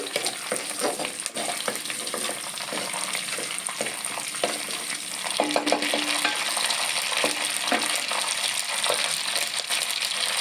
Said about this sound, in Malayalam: ഒരു നല്ല കടുക് പൊട്ടിക്കൽ